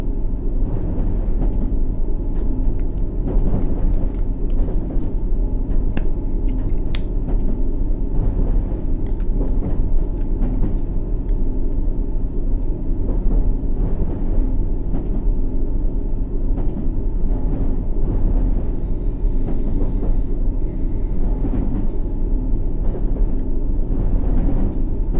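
A District Line subway train in the World of Subways 3 simulator runs on a route toward Kensington, producing a loud, steady mechanical rumble and hum with faint rattles and clicks over the whole stretch.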